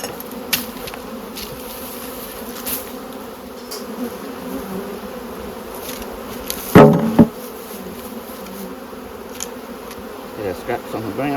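Honey bees buzz steadily around hives being moved during a November beekeeping job, a dense swarm hum throughout with a louder close pass or knock near the middle.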